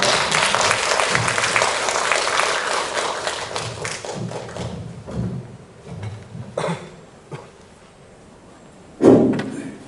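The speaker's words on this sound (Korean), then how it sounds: "큰 박수로 발표 진행하도록 하겠습니다." An audience at an academic Buddhist studies conference claps to welcome a presenter, a burst of applause fading out after about four seconds, followed by scattered thumps and handling noises in a quiet room.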